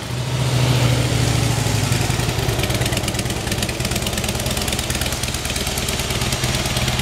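A 2011 Harley-Davidson Heritage Softail Classic, fuel-injected, with factory exhaust, starting and settling into a steady, close, rumbling idle with no talking.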